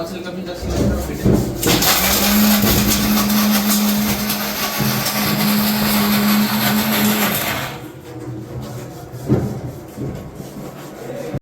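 A mixer grinder chops onion and tomato in a loud, sustained whir that runs for several seconds at a steady pitch before cutting off, with chatter and other voices going on around it at an outdoor farm gathering.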